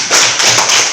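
Loud, close hands clapping in a quick, steady burst for about a second in a classroom, with no talking over it.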